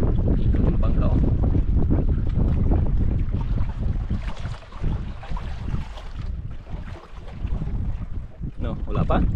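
A small boat moves on open water with heavy wind buffeting the microphone, splashing and rushing noise throughout, loud and close, with a voice heard briefly under it.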